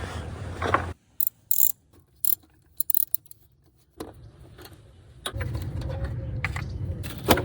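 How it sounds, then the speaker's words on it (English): A ratchet working a long engine bolt loose on a 2016 Toyota Camry during a starter replacement, short bursts of close metallic clicking separated by pauses, then mechanical rattling and clatter. "we're gonna need to loosen or take this bolt off"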